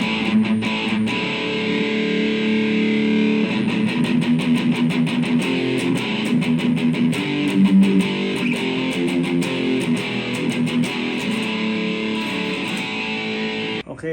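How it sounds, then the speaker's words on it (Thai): Heavily distorted electric guitar through a Boss ME-25 multi-effects metal preset chugs and rings out in a dense, saturated metal tone, playing steadily on its own. "เสียงก้อนเมทัล"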